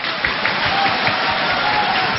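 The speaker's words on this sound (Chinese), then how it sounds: "请鼓掌。" Studio audience at a birthday variety show clapping steadily on cue, a dense continuous patter of many hands with a few scattered cheers mixed in, loud and close throughout.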